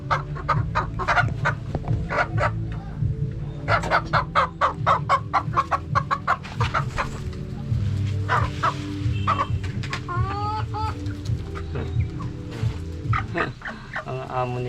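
Chickens and a rooster on a small farm cluck in repeated rapid bursts close by, with sharper squawks and short calls breaking through over a low steady background.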